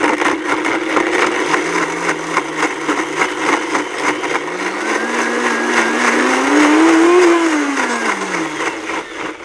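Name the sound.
Ninja blender blending whole lemons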